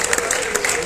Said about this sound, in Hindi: अरे अच्छा है तो आपको ताली बजाओ।